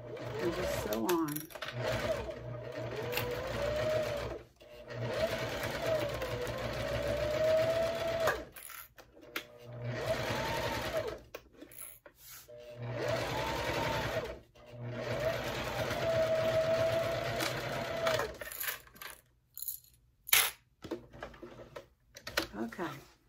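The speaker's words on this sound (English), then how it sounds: "And just sew on." A sewing machine stitches a fabric bag in long, steady whirring runs broken by short pauses, close and loud, and a person talks in between and over the stitching.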